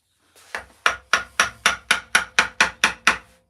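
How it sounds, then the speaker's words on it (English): Wood being carved with a gouge produces about ten sharp, evenly spaced knocks at close range, each with a short woody ring, and no talk. "I am going quite deep now with this gouge."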